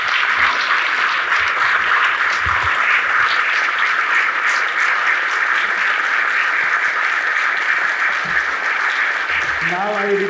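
Audience applause at a national lecture in India, a dense, steady clapping from a crowd that fills the whole stretch at even loudness, with faint voices underneath.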